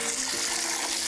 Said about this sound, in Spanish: Luego nos enjuagamos en el agua